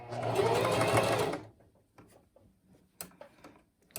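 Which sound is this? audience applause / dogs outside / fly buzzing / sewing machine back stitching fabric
sewing machine back stitching fabric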